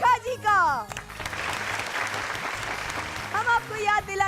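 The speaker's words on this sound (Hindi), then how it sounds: "तो जोरदार तालियों के साथ स्वागत कीजिए" Loud crowd applause welcoming a performer on a Rajasthani dance show stage swells in the middle, with a voice speaking Hindi over music at the start and end.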